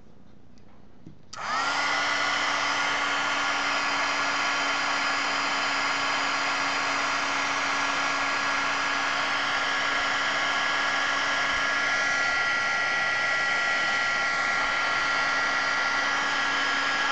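A heat tool switches on and runs in a steady, loud whir, drying copper paint on chipboard without a break and with no talk.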